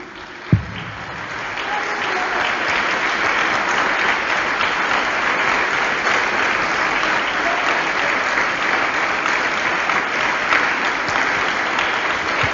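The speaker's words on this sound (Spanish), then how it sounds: "Denle un fuerte aplauso a Jesús." A church congregation gives sustained, dense applause for about twelve seconds, steady and moderately loud after a brief sharp clap at the start.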